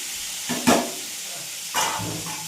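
Bitter gourd (kakarkayi) fries in a pan with a soft steady hiss, swelling into two louder sizzling bursts as the pieces are stirred close by.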